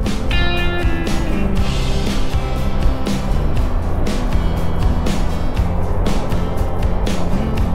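Busy road traffic with many vehicles passing while driving, a steady dense roar of engines and tyres close by, with brief horn-like tones near the start and no talk.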